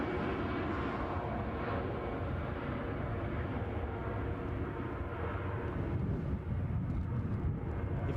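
At Edinburgh airport, an easyJet airliner roars steadily as it departs, a continuous broad jet engine rumble heard outdoors at moderate distance with no pauses.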